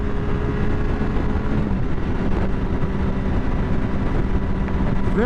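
Triumph Daytona 675 motorcycle from 2012 with steady, continuous engine drone that holds at a constant level throughout, heard up close with no talking.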